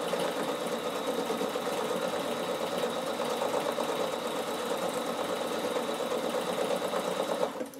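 Bernina sewing machine stitching through fabric and wool during an upcycling project, a steady continuous mechanical whir with rapid needle rhythm running evenly for several seconds before stopping.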